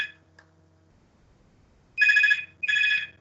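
A telephone rings in two loud, close electronic bursts after a brief quiet stretch, with a faint sound at the very start.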